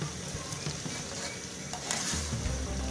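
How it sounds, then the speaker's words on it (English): Blended onions, ginger and garlic sizzle and fry in a pot for a Nigerian dish, a steady hiss with scraping stirs and light knocks of the spoon, close and fairly soft. "Just added the blended onions, ginger and the garlic. Stir it together."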